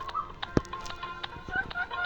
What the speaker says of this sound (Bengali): মুরগি, এই যে মুরগি।